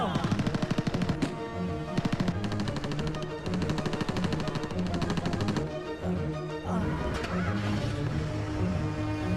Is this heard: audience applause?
no